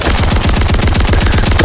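An automatic shotgun in a video game fires a loud, rapid, continuous string of heavy booming shots, close and unbroken, with no talk over it.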